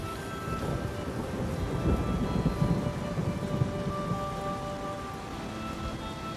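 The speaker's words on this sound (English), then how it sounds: "in the rain." Steady rain falls continuously and fairly loudly, with a dense hiss of drops and a low rumble underneath, no voices present.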